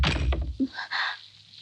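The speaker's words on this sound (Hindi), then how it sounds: "आपने दरवाजा क्यों बंद कर दिया?" A door is pushed shut indoors with a dull thunk and a brief muffled knock near the end of the motion, close and fairly loud, with no voices over it.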